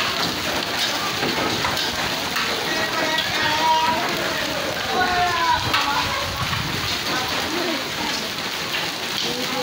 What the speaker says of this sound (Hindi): बहुत तेज़ बारिश हो रही है अभी